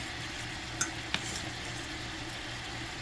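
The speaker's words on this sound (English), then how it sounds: "Yeah, so I can kind of brown it up a little bit. Then I'm gonna saute it in some." Beef browning in a pot for Jamaican stew beef, giving a soft, steady sizzle and hiss throughout, with two brief sharp clicks near the start, quiet and close.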